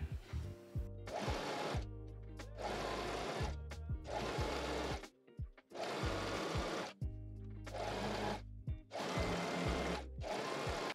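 A sewing machine stitching a hem on a fitted tube top runs in loud, close bursts of rapid whirring, stopping and starting several times with short pauses in between and no speech.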